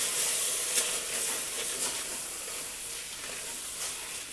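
A pan of seafood gratin sauce sizzles steadily as white wine is poured in to deglaze it, giving a bright continuous hiss with small crackles, close and alone.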